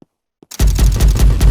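Rapid video-game gunfire from an engineer's turret bursts in after a brief near-silence, then fires loud, close, evenly spaced shots in a steady rhythm to the end.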